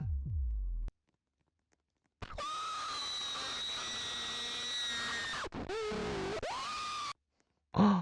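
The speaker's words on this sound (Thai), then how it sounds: "มันมีเสียงกรี๊ดด้วยอ่ะ" Shrill in-game scream from the Roblox horror game Nanny: after a silent gap, a long, piercing, tonal shriek holds for about three seconds, cuts briefly, then returns with a bending pitch before stopping.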